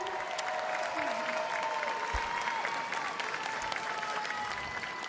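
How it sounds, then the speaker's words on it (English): An audience at the Miss Universe 2020 pageant applauds the organization's president with a continuous, even wash of clapping and a faint tonal hum underneath. "let's all give a round of applause"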